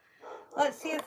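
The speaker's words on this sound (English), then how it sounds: "Hey, can somebody stop that dog from barking" A dog barks a couple of short, close yips in quick succession while a person talks over it.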